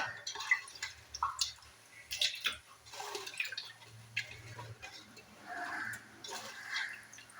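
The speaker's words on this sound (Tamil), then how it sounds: "நிறைய தடவை தண்ணி ஊற்றி நல்லா அதை அலசி" Raw fish being rinsed several times in water in a home kitchen, with faint intermittent splashing, sloshing and dripping in uneven bursts, heard close and quiet with no talking.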